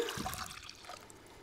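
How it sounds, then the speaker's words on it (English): Cold wine poured into a bowl for Blue Nun wine jelly, a brief liquid trickle and splash close by, fading out within a second or so. "Then add the rest of the cold wine."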